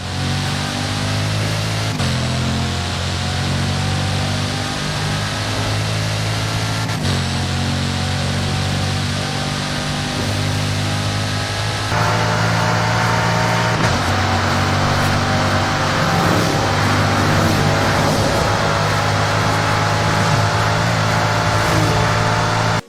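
Bugatti Chiron engine in Forza Horizon 5, a strong, powerful car roar that climbs through several rising pulls with abrupt shifts between them, sustained and up close with no talk over it.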